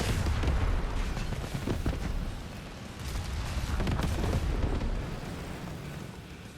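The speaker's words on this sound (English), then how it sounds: "Oh, that rocket launcher is so cool." Rocket launcher fire in the real-time strategy game Tempest Rising, heard as a dense run of booming blasts and rumbling impacts that continue loudly throughout with no talk.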